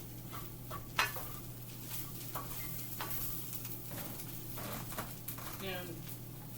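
Plant-based chorizo fries in a couple of tablespoons of oil, with a soft sizzle, scattered utensil scrapes and clinks from stirring, all fairly quiet under a talking voice.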